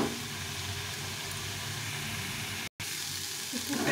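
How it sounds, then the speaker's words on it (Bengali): Momo filling frying in a pan with chili powder, a steady soft sizzle and hiss heard up close, with a brief dropout partway through and no talk. "এভাবে করে একটু একটু ভেজে নেব, একটু নরম নরম করে ভেজে নিতে হবে"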